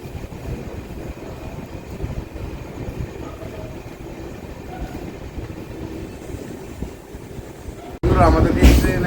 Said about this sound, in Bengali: আমাদের এই ট্রেন আমাদের 2 মিনিট হল্টের পর আমাদের বক্তব্য আমবাসা স্টেশন থেকে ডিপার্চার করে দিল।